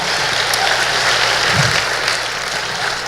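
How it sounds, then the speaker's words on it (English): Conference audience applause, a broad hissing wash of many hands clapping at a steady level, loud and continuous from start to finish. "Give us a round of applause again"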